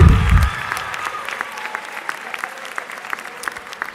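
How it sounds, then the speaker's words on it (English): After a brief low thump, a graduation ceremony audience in Brockton claps steadily for a graduate's parents, a moderately dense round of applause with distinct individual claps, no voices over it. "Clap for them, clap for them"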